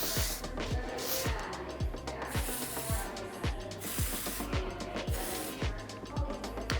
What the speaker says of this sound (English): we're gonna spray with the Oribe Thick Dry Spray